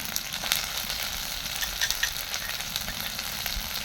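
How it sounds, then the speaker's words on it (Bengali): Onions fry in a pan with spice pastes, giving a steady close sizzle with crackling pops and occasional stirring. "তো পেঁয়াজটা লাল লাল করে ভেজে নিচ্ছে"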